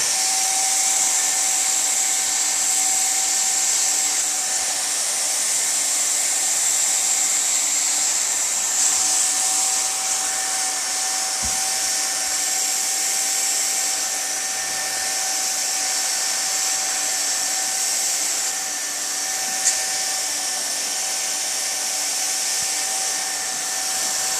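A welding tool runs on a split boot, giving a steady, fairly loud hiss that carries on without a break for the whole stretch, with no voices over it.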